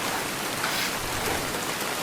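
Hail and heavy rain fall during a thunderstorm in the woods. A dense, steady hiss of pouring rain stays loud and close throughout, with no voices.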